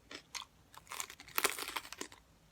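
Someone chewing and crunching a hot pepper up close: a few crisp, crunchy bites followed by wetter chewing, with no talking.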